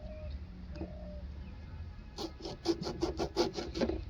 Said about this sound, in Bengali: এরপর কাটছি ইয়েলো মাল্টা 2।